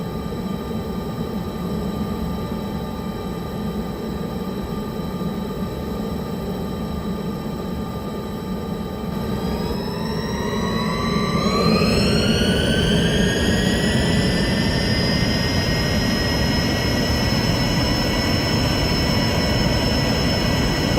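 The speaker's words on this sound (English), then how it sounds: "I'll let you guys see the takeoff animation" Airplane taking off in a Roblox game, a steady loud jet engine roar that swells midway as the turbine whine climbs sharply in pitch and then holds high and strong.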